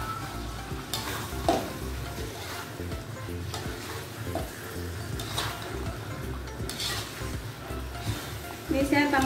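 Fish frying in a pan with soy sauce while a utensil stirs it, a loud continuous sizzle with scraping and clinking strokes as a voice talks nearby.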